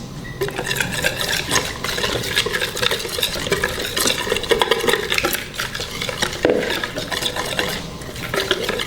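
A spoon stirs turmeric powder into a fish marinade in a bowl, giving close, continuous wet scraping and clinking with a steady busy rhythm and no voices.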